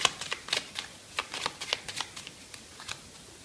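Oracle cards being shuffled by hand, a close, quiet series of crisp riffling flicks in an irregular rhythm with no voice over them.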